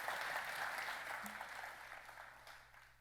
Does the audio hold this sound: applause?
yes